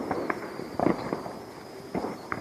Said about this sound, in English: we're allowed to set off fireworks 3 days before and 3 days after of each holiday